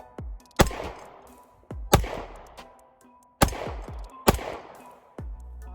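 Gunshots from a MAPP MS9 9mm pistol by Rock Island Armory, fired outdoors as four loud, sharp reports in two spaced pairs, each followed by a decaying echo.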